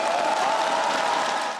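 Broad, steady applause from a crowded hall at a Liberty Korea Party national convention joint campaign speech event, dense clapping holding level throughout and easing slightly at the end.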